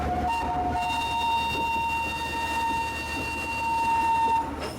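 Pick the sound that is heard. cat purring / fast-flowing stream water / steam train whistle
steam train whistle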